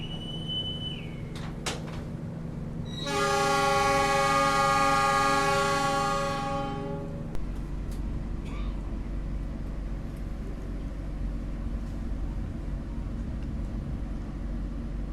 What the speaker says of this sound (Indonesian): perjalanan saya menggunakan kereta api Brawijaya sudah sampai di stasiun Blitar